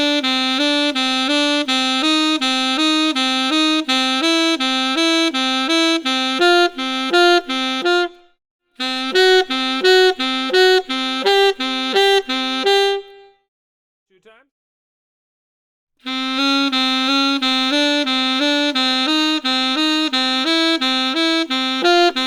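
Saxophone running a chromatic scale exercise, starting from the root of a major scale: a long chain of rapid, evenly stepped single notes, loud and close, broken by two short pauses, with no talking.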